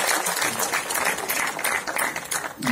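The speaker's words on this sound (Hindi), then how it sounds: "उनका भी ताली बजाकर अभिनंदन स्वागत करें" An audience at a BJP party event applauds a party leader with a loud, sustained burst of dense clapping that keeps going almost without a break.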